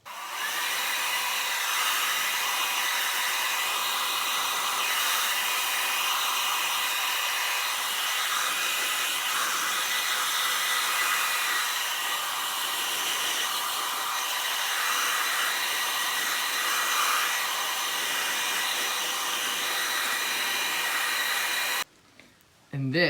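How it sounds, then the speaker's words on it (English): A hair dryer blows steadily and loudly for the whole stretch, a constant broadband whoosh, cutting off briefly right at the end. "quickly move it to a hair dryer, a blow dryer"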